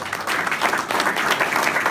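Audience applause at a Louisiana government jobs announcement, continuous dense clapping from a crowd, loud and steady throughout.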